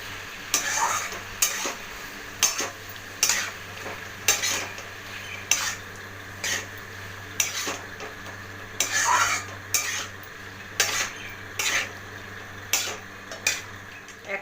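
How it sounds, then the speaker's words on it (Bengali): Spoon scraping and stirring a spiced paste with potatoes in a pan for chicken keema, repeated rhythmic scrapes and clinks about once a second over a faint sizzle. "এই পেস্টটাকে এবার ভালো করে মশলার সাথে আলুর সাথে মেশাবো"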